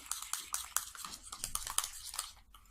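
A spoon scraping and clinking against a pot while salt is stirred into a homemade slime mixture, with quick irregular taps and scrapes, close and fairly quiet.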